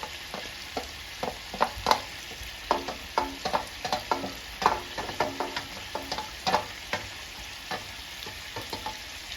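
Onion, tomato, garlic, ginger and green chilli sauté in a pan with a steady close sizzle, punctuated by frequent sharp spoon clinks and scrapes against the metal, with no talking.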